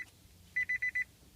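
A parked, switched-off Nissan Leaf gives a warning chime: four short, evenly spaced electronic beeps, clear and fairly close, over a quiet cabin background.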